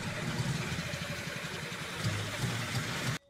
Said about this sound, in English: you can tell if the car starting because it sounds like a car starting